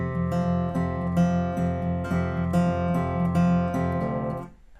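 Fingerpicked acoustic guitar plays the intro of a song, a steady rolling pattern of plucked notes ringing over a held bass, played alone and close before fading out at the end.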